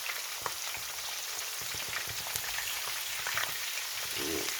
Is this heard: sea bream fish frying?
yes